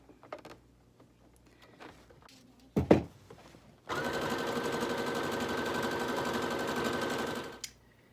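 A sewing machine stitches around the edge of a fabric dust cover for a Cricut Explorer Air 2, a fast, steady mechanical whirr lasting several seconds, preceded by a few clicks and clunks as the fabric is set up.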